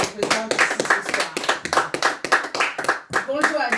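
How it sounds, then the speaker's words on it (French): An audience at a women's conference applauds, with irregular hand claps mixed under a voice that keeps speaking throughout. "veuillez applaudir"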